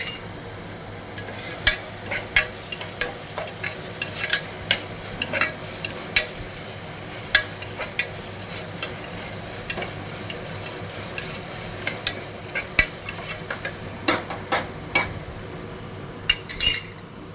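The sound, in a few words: stirring rice gruel cooking in a pot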